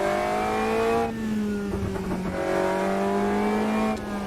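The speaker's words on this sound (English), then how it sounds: "let's go Caterham for a run around Gateway short road course" A Caterham race car in Automobilista 2 laps the Gateway short road course, its engine holding a steady, loud drone with shifting pitch and brief dips as the throttle lifts, with no voices over it.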